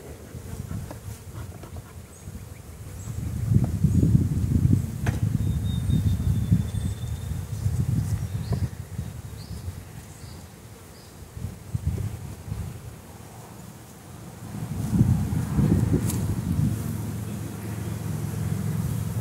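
Honeybees buzz around an overwintered nuc hive, a dense droning swarm that swells and fades as insects pass close to the microphone, with light wind noise and no voices.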